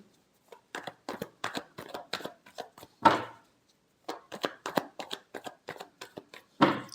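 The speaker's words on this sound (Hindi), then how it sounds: "Last shuffle." Tarot cards are shuffled by hand in quick, crisp bursts of riffling and slapping, close and dry, with short pauses between runs and a heavier thump now and then.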